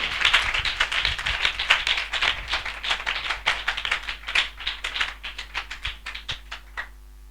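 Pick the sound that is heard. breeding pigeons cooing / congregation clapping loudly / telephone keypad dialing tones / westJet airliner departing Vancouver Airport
congregation clapping loudly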